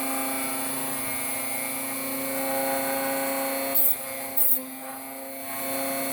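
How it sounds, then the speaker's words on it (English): A Dremel rotary tool filing the teeth of a bandsaw blade, working from the weld around, makes a steady high whine with a constant hum underneath, plus two brief brighter bursts of grinding contact near the end. "I don't know if you can hear me over the Dremel, but we're going to file a few teeth here"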